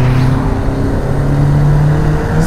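A turbocharged Nissan Silvia S15 Spec R engine hums steadily with a low, sustained drone while accelerating, holding a fairly even pitch and loudness throughout without a sharp rev.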